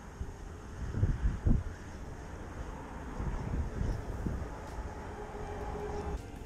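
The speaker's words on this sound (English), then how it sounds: "The wind is like so insane behind me." Strong winter wind by a reservoir gusts and buffets against the microphone, a low, rough rumble with a few louder bursts, steady and fairly quiet throughout.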